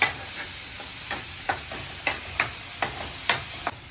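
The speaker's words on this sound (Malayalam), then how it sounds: "നമുക്കത് വീണ്ടും ജസ്റ്റ് ഇളക്കി കൊടുക്കാം" Prawn masala with paste being stirred in a pan, a spoon scraping in repeated short strokes over a steady background hiss of gentle frying, fairly close.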